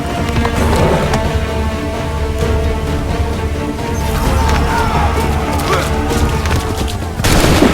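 Musket volley gunfire in the video game Assassin's Creed III, a battlefield scene: a loud, dense wall of overlapping shots and booms with crackling debris, continuous throughout and swelling near the end, with battle sounds layered underneath.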